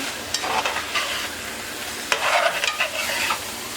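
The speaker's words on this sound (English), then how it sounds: "you just throw in the fish. And then you stir everything" Fish stirred into a bell pepper stew base in a pot, with a spoon scraping and sloshing in repeated strokes over a soft sizzle, close up with no talking.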